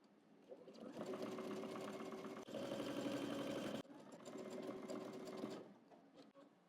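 A sewing machine stitching fabric for workout shorts, running loud and close in bursts of fast mechanical whirring and rattling with brief pauses in between.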